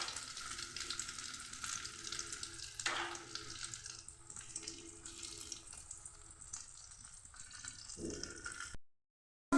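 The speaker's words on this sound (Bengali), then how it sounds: "কড়াইয়ের মধ্যে তেল দিয়ে ছেড়ে দিচ্ছি।" Paratha stuffed with peas and egg sizzles in oil in a wok, a steady close crackling hiss that carries on for several seconds before cutting off near the end.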